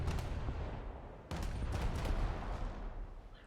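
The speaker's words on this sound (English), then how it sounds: "So see, all my big guns are shooting the ones on the right." Naval ship guns firing in War Thunder, with main and secondary batteries booming in rapid overlapping bursts, a sharp renewed volley midway, fairly faint overall with no talk.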